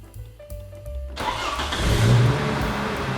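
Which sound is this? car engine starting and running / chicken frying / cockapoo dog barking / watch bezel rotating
car engine starting and running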